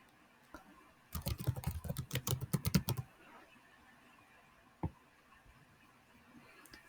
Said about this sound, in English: Type in my agent.